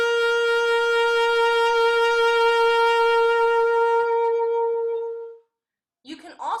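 A clarinet or saxophone holds one long note with vibrato, a gentle wavering in pitch, for about five seconds before fading out. After a brief gap, a voice starts speaking.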